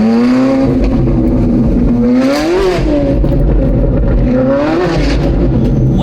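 Ferrari 458 Spider fitted with F1 race exhaust headers drives past loudly and up close, its engine rising and falling through several sharp revving surges, with a raspy high-pitched wail that sustains throughout.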